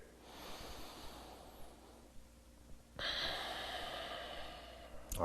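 Slow, deep breaths during a yoga pose, a long audible inhale followed by a fuller, louder exhale, close to the microphone with a soft airy hiss.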